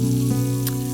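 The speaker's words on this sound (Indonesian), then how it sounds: "Aku tuh paling males sebenarnya goreng-goreng ikan, goreng ayam, pokoknya semua yang menggoreng-goreng" Fish frying in hot oil in a home kitchen while dinner is cooked, giving a steady, close crackling sizzle that runs unbroken over a low hum, with no talking.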